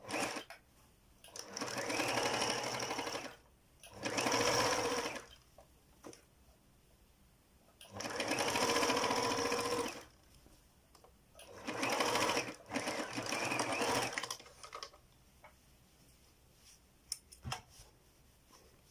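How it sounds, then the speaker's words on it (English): A sewing machine runs straight stitches along a face mask seam in several distinct bursts of whirring, each lasting a couple of seconds and separated by quieter pauses with faint handling clicks. "You run your straight stitch, then you're gonna zigzag it to lock it."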